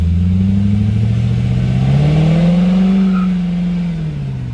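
An old Ford restomod project car pulls away, its engine rising steadily in pitch as it accelerates, loud and close throughout; any tire chirp is buried in the engine noise.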